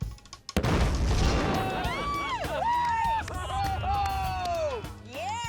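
A block of C4 detonated under a bathtub of water gives a sharp, loud blast and a burst of spraying water, followed by an excited crowd cheering and shouting over the lingering rush.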